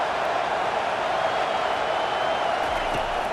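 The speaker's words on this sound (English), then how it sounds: "It is getting loud as this crowd tries to help its defense" A stadium crowd roars steadily at a college football game between Oregon and Michigan, a dense, loud wash of noise that holds without break.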